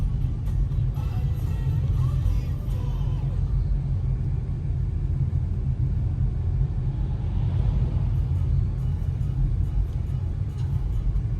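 A new MTZ 892.2 tractor driving along the road toward home, giving a steady, loud low engine rumble that continues unbroken throughout.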